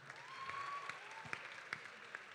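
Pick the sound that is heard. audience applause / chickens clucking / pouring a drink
audience applause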